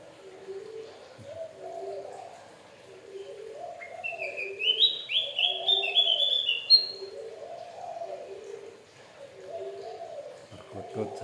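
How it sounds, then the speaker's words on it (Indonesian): Garden birds call in a calm outdoor setting: a dove coos in a repeating rhythmic phrase throughout, while brighter chirps and whistles from a songbird rise above it midway, fairly near and moderately loud. "Hiburan sama burung kebun sambil ngopi biasa."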